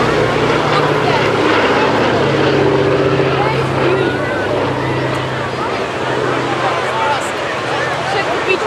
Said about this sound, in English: That big bomber right there.